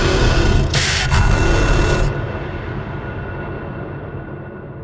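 A designed voice effect with reverb and tremolo: a massive, reverberant roar swells with a brief bright burst, then decays into a long, droning tail that rumbles on without any speech.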